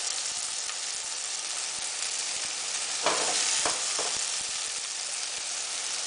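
Beef and onion fry in a pan for an eggplant stew (khoresht bademjan), giving a steady, close sizzling hiss, with a short cluster of stirring scrapes and sputters partway through; no one speaks.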